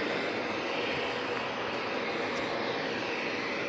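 A vacuum cleaner runs continuously during head gasket work on an overheating engine, a loud, steady broadband rushing roar close by with no pauses or talking.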